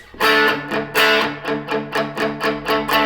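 Electric guitar through a Tube Screamer overdrive playing a rhythmic pattern of chords and single notes, warm and mid-heavy with mild grit, loud and close with no voices.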